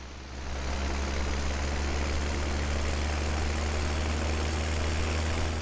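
A tractor engine idles in a farming video game, a steady low diesel drone with a constant hum that rises slightly at the start and then holds level and unbroken, moderately loud and alone.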